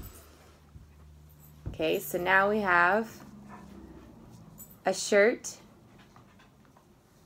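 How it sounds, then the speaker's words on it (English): A dog in the background gives a few whiny, wavering whimpers in two short bursts, fairly near, while a person talks during a clothespin doll craft session. "That's our dog in the background."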